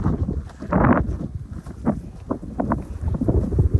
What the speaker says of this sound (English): It is very windy, so you'll be hearing a lot of wind.